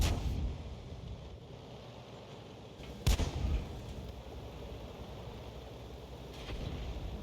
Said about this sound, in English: they're taking Arty rounds as well.